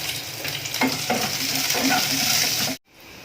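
Food frying in a pan with a steady, close sizzle and occasional stirring scrapes, running loud and continuous before cutting off abruptly near the end.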